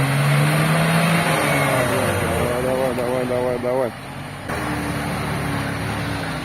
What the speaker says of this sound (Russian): Все, пошла машина.